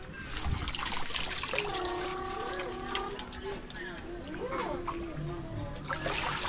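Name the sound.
water splashing while mixing concrete with sand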